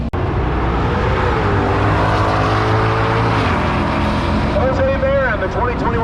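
A 2021 Shelby GT500 and a 1998 Mustang roar loudly down a drag strip at a musclecar event, engines droning and shifting under an announcer talking over the noise.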